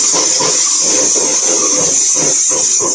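An electric mixer running on high power whisking egg whites for meringue, a loud constant whirring buzz with a faint rhythmic scraping underneath, close up with no talking.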